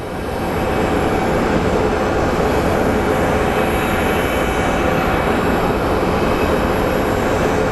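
An 11-year-old WestJet Boeing 737-700 airliner at Phoenix Sky Harbor airport gives off a loud, steady jet roar that swells in the first second and then holds at full strength to the end, with no voices.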